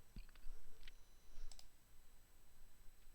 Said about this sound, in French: Je jette les dés.